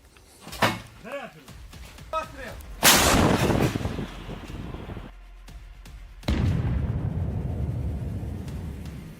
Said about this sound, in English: Precise hit from Ukrainian artillery and the vehicle stops.